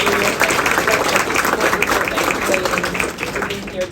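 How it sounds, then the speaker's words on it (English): An audience at a conference panel breaks into dense, sustained applause, loud and close, lasting the whole span and tapering slightly near the end. "One more round of applause, everybody."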